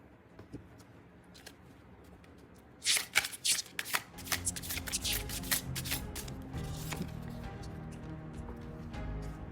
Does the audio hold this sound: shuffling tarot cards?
yes